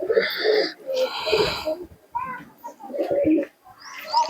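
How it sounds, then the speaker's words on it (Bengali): Pigeons, a golden pair among a loft of Giribaj and Matraj birds, coo in repeated throaty, wheezy bursts close by, with short pauses between calls. "এই হচ্ছে পায়রা"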